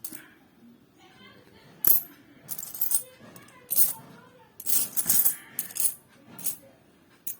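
Old Indian coins, among them rupee and paisa pieces, are handled and dropped, giving scattered metallic clinks and short jingling bursts at irregular intervals. A quiet room murmur sits under them.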